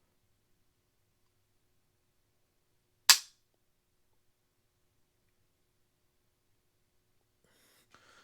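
A single sharp, crisp click as the trigger of an unloaded Ruger 10/22 Target Lite rifle is dry-fired, standing alone in near silence, followed a few seconds later by faint handling noise.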